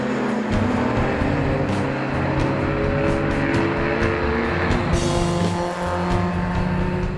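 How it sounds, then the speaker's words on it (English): A Jaguar E-Type race car runs at speed in a GT car race, its engine a loud, continuous roar that stays close and steady throughout, with no talk. "overall race winner John Minshaw in his blisteringly fast Jaguar E-Type"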